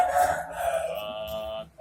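Roosters crow at a chicken breeding farm in a loud, close call that holds for a moment and then drops away, with no one talking over it.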